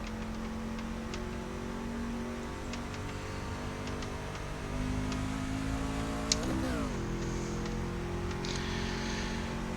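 A race car in a video game pulls out of the pits, its engine droning steadily and then rising in pitch as it accelerates, with a sharp shift partway through and faint ticking over a constant hum.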